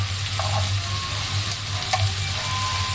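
Shrimp frying in butter in a pan, a loud continuous sizzle and crackle close up, with a few light utensil taps and no speech.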